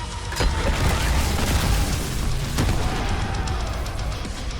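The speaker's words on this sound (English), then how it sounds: "the secondary fire is this charge up beam surface explosion" Secondary-fire charge-up beam surface explosion from a sci-fi weapon in the Dead Space Remake, a dense, rumbling roar with sharp cracks at the start and midway, sustained and loud throughout.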